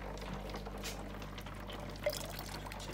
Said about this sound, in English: So the second one is going to put 10 millilitres of NT Labs live bacteria